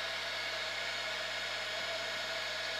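Heat gun blowing hot air onto EVA foam, a steady, even whir with a tonal hum, continuous and close for the whole stretch.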